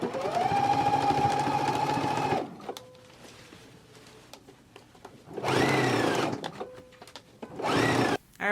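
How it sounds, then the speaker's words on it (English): A sewing machine stitches down the lower band of a jacket in loud, close whirring runs, with a long burst, a pause with light handling noise, then two shorter bursts. "just stitch all the way down along the lower band"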